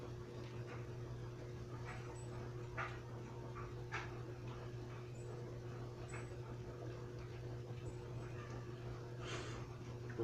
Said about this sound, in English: silly little doggy.